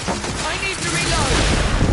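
Rapid gunfire in the Victorian-era video game The Order: 1886 during a firefight in a grain distillery, a dense, continuous crackle of shots that fills the whole stretch, with shouted voices mixed in.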